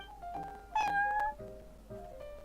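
Several meows from a cat in a video game, a short rising call followed by a louder drawn-out meow and two softer ones, close and clear over a quiet background.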